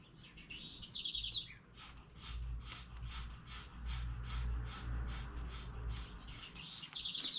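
Small birds chirp outdoors in short bright phrases at the start and end, with a steady low background rumble between.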